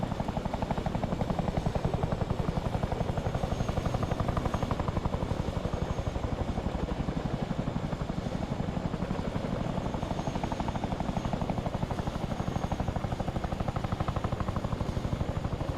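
A Chinook helicopter in ARMA 3 drones continuously with steady rotor thumping, close and unbroken for the whole stretch, with no voices.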